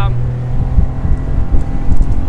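A 2021 Quintrex 420 Busta aluminium boat under outboard power at maximum RPM, a loud steady engine drone with hull slap and wind buffeting, close and continuous.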